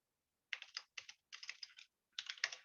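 Typing a command on a computer keyboard, a few quick clusters of key clicks in short bursts with pauses between, close and clear with no talking.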